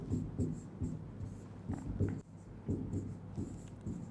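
A teacher writing on a board during a biology lesson, with short irregular strokes and taps, faint and close, with no talk over it.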